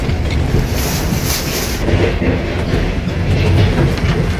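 Passenger train rolling along the rails, heard from inside the carriage as a steady, loud rumble with rattling wheel noise and a continuous hiss throughout.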